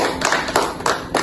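Audience clapping for guests at a student podcast recording, heard as a few irregular bursts of hand claps, close and moderately loud, with no talk over them.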